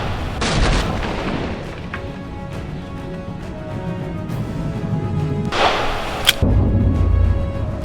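Gunshot fired at an iPhone in a Mous Limitless case for an extreme test, a few sharp outdoor bangs with a loud crack near the middle and another near the end, no talk.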